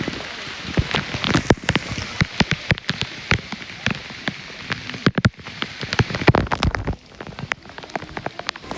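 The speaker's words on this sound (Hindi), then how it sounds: "यहाँ पे बहुत ही ज़ोरों में बारिश स्टार्ट हो गई थी" Heavy monsoon rain pours down at Matheran, a dense steady hiss punctuated by frequent sharp drops and splashes striking nearby surfaces, with no speech.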